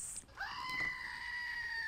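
Toy goat mounted on a cut tree-trunk base lets out a loud, strained, human-like scream when pressed, rising then holding a wavering tone for over a second, close-up.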